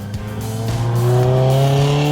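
A Ferrari drives past close by with a loud, rising engine note and some tyre squeal, its pitch climbing steadily over about two seconds with no talking.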